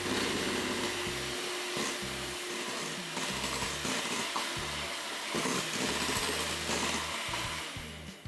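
An electric mixer runs continuously, mixing a creamy chocolate dessert, giving a steady buzzing whine with a broad, noisy hiss, close and loud throughout as music plays underneath.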